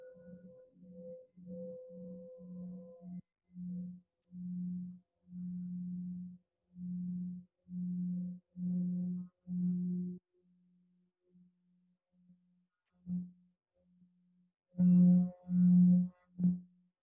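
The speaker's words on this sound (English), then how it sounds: "there are also healing bowls like this one." A healing singing bowl, tuned to the heart chakra, rings with multiple tones in a long series of steady sustained pulses, then falls quiet before a few louder, brighter strikes near the end; no voices.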